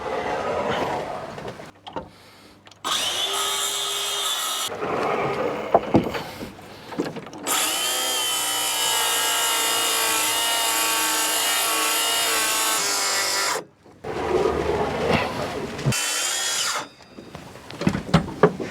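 A power saw rips a 3-inch strip of wood during a wooden boat restoration, with loud whining cutting bursts broken by short pauses and a long sustained cut in the middle.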